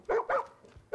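Dogs in the video game Far Cry 5 give a quick series of short, close, loud barks with brief gaps between them, with no voices over them.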